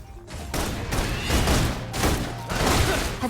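Sustained video game gunfire with repeated bursts and booms, loud and close throughout, laid down as suppression fire.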